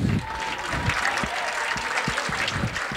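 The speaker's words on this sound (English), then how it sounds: "let's get a better round of applause" Brief, modest applause from spectators at an outdoor polo match, a thin spread of claps with a few distinct hand strikes standing out.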